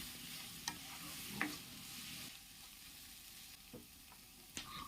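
Onions with salt sautéing in a pan for a chicken stew, a quiet steady sizzle broken by a few sharp stirring clinks and scrapes of a spoon against the pan, with no voices.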